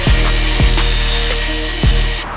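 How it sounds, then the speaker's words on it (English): Hand grinding on a metal piece of a homemade turbo manifold for a Chevy Cruze, a continuous harsh abrasive rasp with a few sharp knocks as the tool shifts, close and loud, with no talking. "looks like I need to grind a little."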